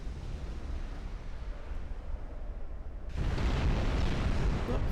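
Ammunition detonation explodes aboard a warship in the naval battle game Ultimate Admiral Dreadnoughts, a dense roaring rumble that swells abruptly louder about three seconds in and keeps booming steadily to the end.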